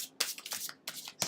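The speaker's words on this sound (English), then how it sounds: "you'll notice I'm shuffling a little bit differently because these cards are huge compared" Large tarot cards are shuffled by hand in quick bursts of papery riffling and slapping, a few short rustling rounds close up and fairly soft.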